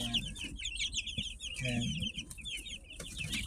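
Day-nine broiler chicks on a poultry farm chirp and cluck in a dense, continuous high-pitched chorus close by, while someone briefly speaks over them.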